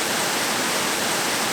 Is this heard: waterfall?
yes